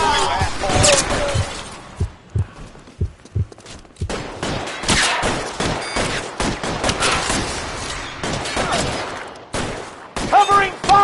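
Gunfire in the LA Noire video game, a dense fusillade of sharp gunshots in bursts, some isolated single shots between volleys, fairly loud with voices talking over parts of the exchange.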